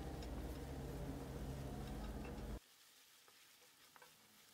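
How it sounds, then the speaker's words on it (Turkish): Washed rice sautéing in a pan, loud sizzling and stirring that stops abruptly partway through, leaving quiet room tone with a few faint clicks. "Evet, kavurma işlemine devam ediyorum."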